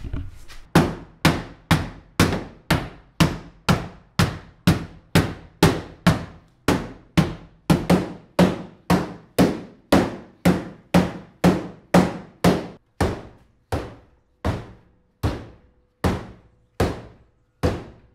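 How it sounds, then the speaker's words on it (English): Steady, evenly spaced hammer blows on a metal transmission tunnel of a 300ZX, about two per second, loud and close, continuing without pause for the whole stretch. "There was actually quite a bit of hammering that needed to get done on the trans tunnel"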